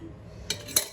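A spoon clinks twice against a bowl while lemon juice, oil and spice paste are mixed into a marinade for shallow-fried fish. The two short, close taps fall about a quarter second apart over a quiet background.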